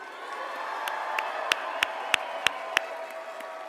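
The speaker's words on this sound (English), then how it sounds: "One more big round of applause for Scott and Chloe" Rally crowd applause outdoors at a Nashville event, a faint, diffuse clapping wash with a few sharper nearby claps standing out in a loose rhythm.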